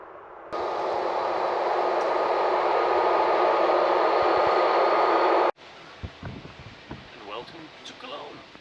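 A Swiss IC train runs with a steady, loud broadband rumble for about five seconds, then cuts off abruptly, leaving quieter ambience with scattered clicks and knocks; voices can be heard.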